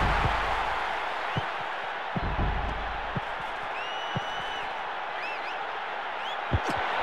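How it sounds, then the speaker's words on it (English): Disgruntled crowd noise from International Superstar Soccer 98 on the Nintendo 64, a steady stadium roar with scattered low thumps and faint whistle-like tones, continuous throughout with no one speaking. "The crowd aren't happy with that one."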